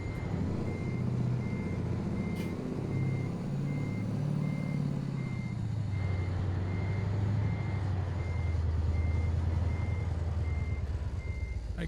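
A truck reverses in the American Truck Simulator game, its backup alarm beeping steadily at even intervals over a loud, continuous diesel engine rumble that shifts in pitch as the vehicle maneuvers.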